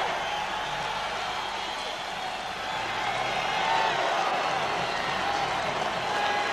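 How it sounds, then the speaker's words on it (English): A large crowd applauds and cheers in a big boxing arena, a steady dense roar of clapping that swells slightly midway, heard from a distance. "Should hear a big sound of applause now."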